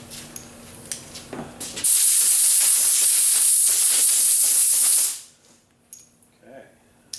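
A blast of compressed air blows sanding dust off a Ford Flex bumper cover, a loud steady hiss lasting about three seconds before cutting off sharply, with faint shop noise before and after.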